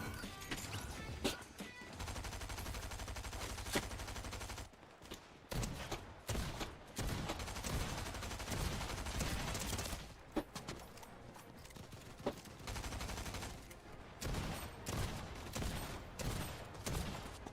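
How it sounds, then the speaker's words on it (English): A shotgun fires rapidly in a video game, a dense run of quick, sharp blasts with brief gaps between bursts, mixed with clattering game effects. "Jesus Christ, the shotgun fires fast."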